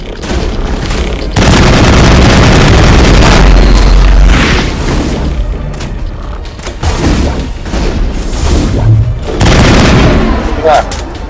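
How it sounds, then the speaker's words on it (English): In Mass Effect, gunshots strike a rock in a series of heavy, booming blasts that come in several loud bursts with brief quieter gaps between them. Voices and mechanical clatter can be heard in the background. "I shot a rock"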